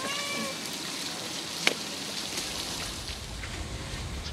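A wet cat meows in the water room of the Palace Museum's workshop area, its cries faint and brief against a steady rainy, watery wash with one sharp knock partway through.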